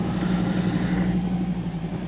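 A vehicle drives through soft sand in Tembe Elephant Park, its engine a steady low drone with a dense rushing rumble, close and loud throughout.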